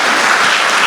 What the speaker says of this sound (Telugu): అది ఆవిడకు ఒకసారి చప్పట్లు.